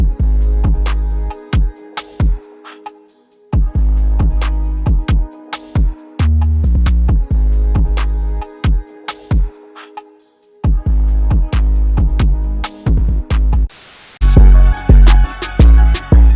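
A full hip-hop beat chorus plays alone, with punchy drums, booming 808 bass and layered melodic parts driving a steady rhythm, shifting to a denser section near the end.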